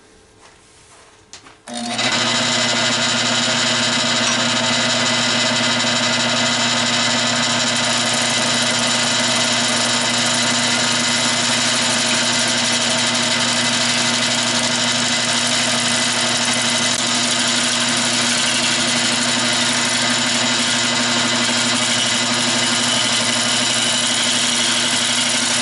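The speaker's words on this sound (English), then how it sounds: "and it's time for sanding." An oak bowl turns on a wood lathe during sanding, the motor's steady mid-pitched hum and whine starting abruptly after a quiet moment and holding loud and constant throughout, with no talking.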